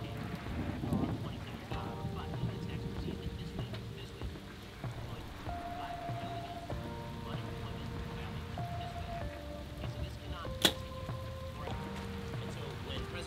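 Rain and thunderstorm during outdoor archery, a steady patter of rain with low rumbling thunder underneath and one sharp crack near the end, while someone talks over it.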